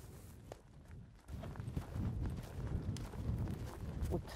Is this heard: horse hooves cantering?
yes